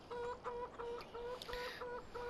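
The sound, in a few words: chickens clucking in Farming Simulator 17 video game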